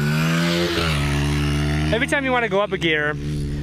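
Honda XR 125 dirt bike engine holding a steady idle-like drone, then a brief run of rising and falling rev sweeps as gears are shifted, close and loud, with someone talking over it.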